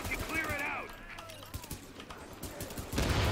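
Bursts of rapid gunfire crack out in The Division while landing headshots, clustered shots over someone talking, with a loud blast swelling at the end.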